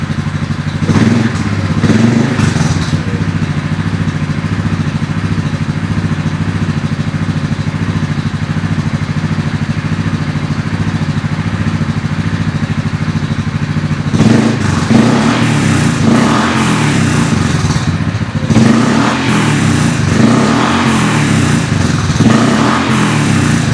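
A Yamaha Grizzly 450 ATV engine idles steadily and loudly up close after a valve adjustment, with a few blips of throttle and mechanical clatter partway through.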